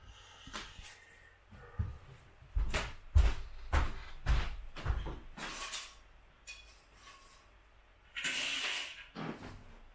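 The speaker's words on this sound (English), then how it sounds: "I had to close my door." Sharp knocks and thuds of a door being handled and closed in a room, several distinct impacts spaced irregularly, followed by softer rustling and a longer hiss near the end.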